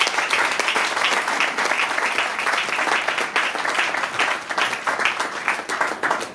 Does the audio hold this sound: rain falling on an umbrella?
no